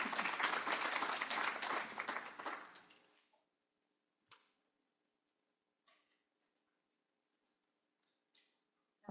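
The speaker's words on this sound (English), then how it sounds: "Round of applause for Aaliyah." Meeting attendees applaud for about three seconds, the clapping fading out, followed by near silence broken by a few faint isolated taps and clicks.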